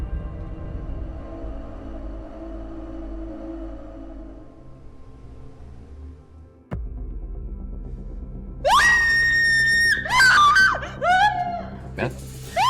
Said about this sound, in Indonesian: Kamu kenapa teriak-teriak?